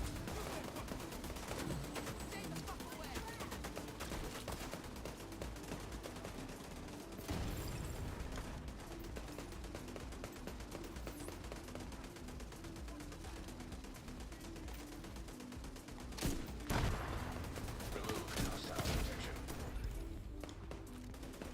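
Turret gunfire in The Division 2 rattles in dense, continuous bursts, loud and close, with mechanical clatter and a few sharper impacts near the end.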